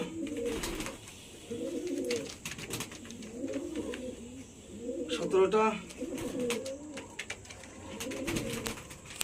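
Repeated low cooing from pigeons in rhythmic bursts, with a voice speaking briefly partway through and some clattering noises.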